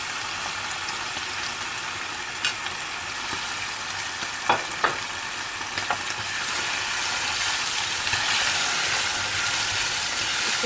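Mutton with onion, ginger-garlic paste and cumin frying in a pot, a dense steady sizzle with a few sharp scrapes of stirring, growing a little louder toward the end, with no one speaking.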